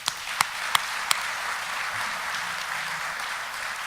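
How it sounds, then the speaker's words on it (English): Audience at the Pan American Association's 83rd annual meeting applauds an award honoree; a few crisp near claps open a broad, sustained round of clapping that holds steady and full. "Please join me in giving her a big round of applause."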